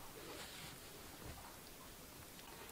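Light rain falling over a vegetable garden during potato planting, a faint, steady, even hiss of drizzle with no other sounds and no talking.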